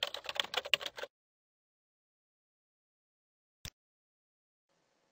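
Keys tapped in a quick burst on a computer keyboard while entering a WebSphere configuration command, close and clear, then silence with one stray click later.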